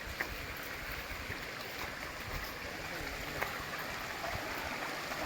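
Soft, steady rush of flowing stream water, a faint continuous burble heard from a short distance.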